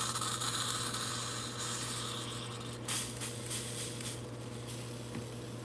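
Steady hissing spray from a can aimed into the inside of a silverware bud vase, continuous and close for the whole stretch, with a few faint handling taps.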